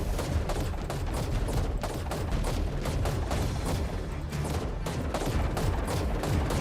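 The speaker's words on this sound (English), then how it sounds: "you literally just keep shooting and shooting and shooting" Dense, continuous automatic gunfire in a video game, a rapid stream of shots fired at a giant titan, loud and unbroken throughout with no talk over it.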